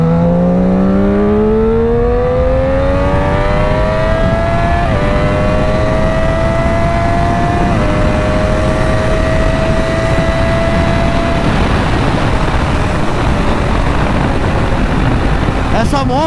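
Triumph Daytona 675 sport motorcycle accelerating hard. The loud engine note climbs in pitch through a couple of gear shifts over a constant roar of wind and road noise.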